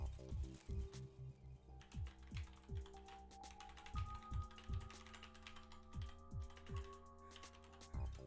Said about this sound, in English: I hope my typing gets better today